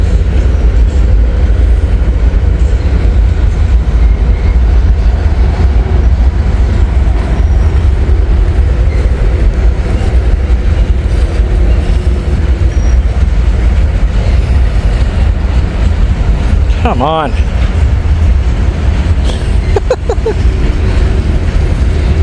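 A slow freight train rolls past close by, its railroad cars giving a loud, steady low rumble with faint rhythmic clatter, and a sharp wheel squeal rises twice near the end; someone speaks briefly.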